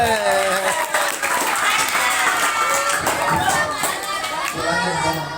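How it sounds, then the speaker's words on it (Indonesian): Children clap and cheer together at a school Ramadan program for grades four to six, with the applause and chatter staying dense and steady throughout. "Tepuk tangan."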